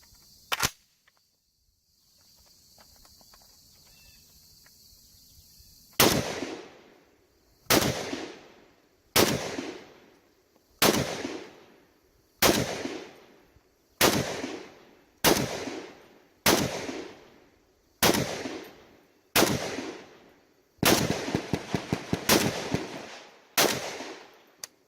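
A CETME rifle with an H&K steel magazine fires Perfecta .308 brass-case rounds, about a dozen loud, sharp shots at uneven intervals after a quiet start, with one quicker burst of cracks near the end.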